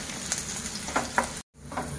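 Garlic and onions fry in a pan as the base of a gravy, a soft steady sizzle with a few stirring scrapes close by, cut by a brief silent dropout, with no talking.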